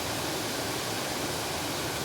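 Jet Sao Noi waterfall in Saraburi, Thailand, with clear green water, gives a dense, unbroken roar of falling water, steady and loud throughout.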